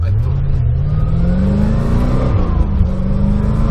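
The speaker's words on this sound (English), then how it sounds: "So I'm gonna pull out of this stop sign and I'm getting on it hard" A 1991 C4 Corvette V8 with a newly replaced TPS and ICV pulls hard from a stop sign, a loud close engine roar rising steadily in pitch under acceleration from inside the car.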